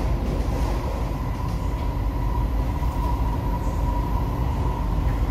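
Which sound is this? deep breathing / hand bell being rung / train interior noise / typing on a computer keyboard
train interior noise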